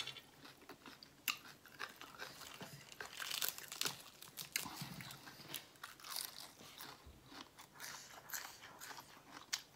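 Someone eating a spicy Thai-Lao dish, the last bites of a plate, with crisp crunchy bites and chewing in an irregular rhythm, close and fairly quiet, with no talking.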